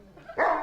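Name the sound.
dogs barking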